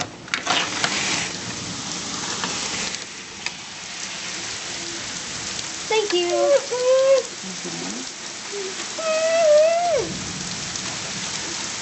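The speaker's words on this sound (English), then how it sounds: "And even it's raining." Steady rain pours down during a thunderstorm, a constant hiss of drops hitting surfaces close by, with brief speech and high, sliding voices breaking in partway through.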